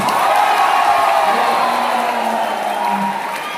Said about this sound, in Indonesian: Untuk Pak Sinaga, berikan tepuk tangan.